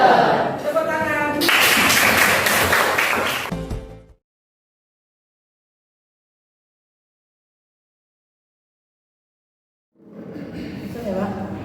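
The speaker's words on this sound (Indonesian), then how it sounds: "Tepuk tangan." A classroom of year-seven pupils clapping hands in a short burst with a rhythmic patterned start, then silence, and voices return at the end.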